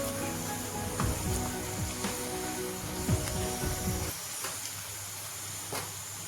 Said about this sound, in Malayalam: ഞാൻ കുറച്ച് സവാള ഇട്ട് വറുത്തെടുക്കുകയാണ്